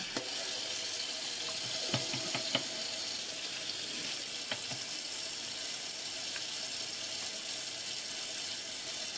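Running water pours steadily over mussels in a colander in a home kitchen, a soft continuous hiss with a few faint clinks of shells, no talking.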